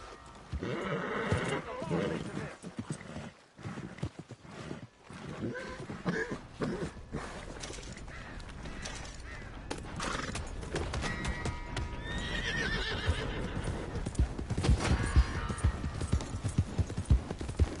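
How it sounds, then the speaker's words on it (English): A horse whinnies loudly amid steady clip-clopping hooves in the video game Red Dead Redemption 2, with voices speaking over the commotion. "Hey! My horse!"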